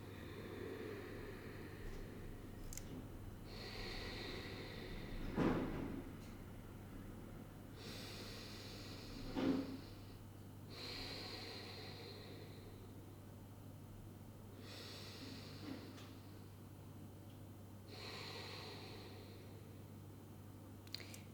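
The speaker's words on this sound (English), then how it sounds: "So we'll take 3 just easy deep breaths." Slow, deep breaths drawn during a guided breathing practice, each long inhale and exhale rising and falling quietly over a steady low hum, with two sharper sniff-like intakes standing out.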